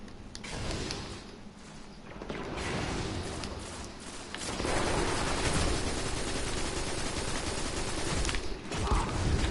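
Sustained gunfire from the shooter game Destiny during a zone-control match, dense rattling bursts running throughout and growing louder and steadier in the second half, with no talk.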